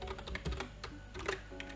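Rapid keystrokes on a computer keyboard while entering code, a close, quiet run of irregular clicks and taps with brief pauses between bursts.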